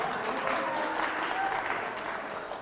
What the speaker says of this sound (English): Do I get some applause?